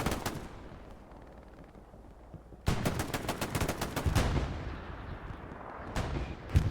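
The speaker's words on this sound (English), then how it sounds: "Firing up north with the STG." STG assault rifle fire in Hell Let Loose: quieter distant shots at first, then loud rapid bursts of automatic gunfire from about the midpoint, with another burst near the end.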